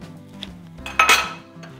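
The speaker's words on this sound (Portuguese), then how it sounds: "Continuar mexendo" A utensil scrapes and clinks against a pan while gorgonzola sauce is stirred, giving a few short metallic taps and one louder clatter in the middle.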